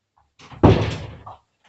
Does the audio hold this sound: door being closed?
yes